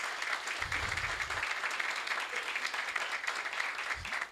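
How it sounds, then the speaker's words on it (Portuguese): An audience applauds the organizers at a sports law event, with a continuous, dense wash of clapping filling the hall at moderate level and faint voices underneath. "uma salva de palmas para eles"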